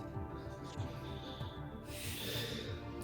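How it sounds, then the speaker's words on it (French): Heavy snoring comes muffled from inside a room behind a closed door, faint and distant, with slow repeating breaths. "À l'intérieur, ça ronfle fort."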